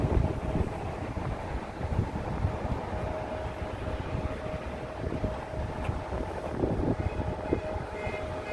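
Strong wind gusts buffet the microphone outdoors at SFO airport, a rough, continuous low rumble with uneven bursts and a faint steady hum underneath, no voices.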